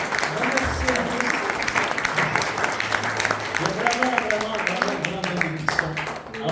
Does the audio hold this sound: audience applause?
yes